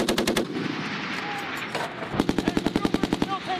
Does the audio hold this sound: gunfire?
yes